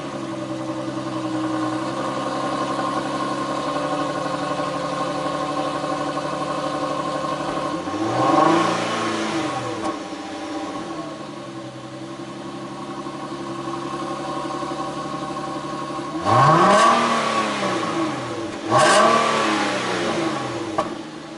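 A car engine with an exhaust that sounds louder when cold idles steadily, then blips up in loud revs about three times with clear pitch sweeps, alone with no talk.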